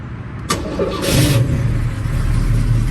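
A 1988 Oldsmobile Cutlass with a Flowmaster exhaust cranks and fires up with a sharp catch, then settles into a deep, steady, loud idle rumble close by.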